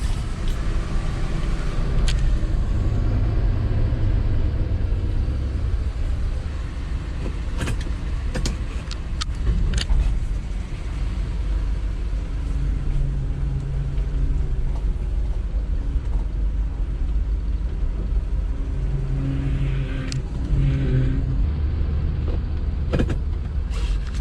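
A 1978 Ford F100 pickup, fitted with a Holley Sniper EFI after sitting parked for years, drives around the block, its engine droning steadily from inside the cab with occasional creaks and clicks over the rumble.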